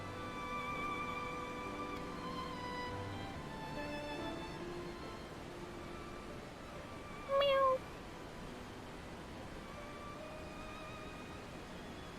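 A cat in the video game Final Fantasy XIV lets out a single short meow over steady game background music and ambience.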